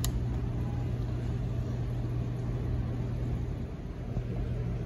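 A STIHL or Echo string trimmer engine holds steady at wide open throttle, a constant loud droning hum with a strong low tone and no speech over it.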